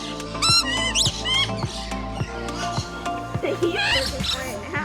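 Parrots at a parrot park in Pigeon Forge, Tennessee, squawk in loud, harsh bursts close by, several calls overlapping, with people talking excitedly over them.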